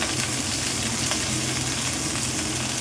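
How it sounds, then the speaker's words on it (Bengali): Vegetables with tomato fry in a pan, medium heat, with a steady close sizzle and crackle running evenly throughout. "মিডিয়াম ভাজবো, এর বেশি ভাজবো না।"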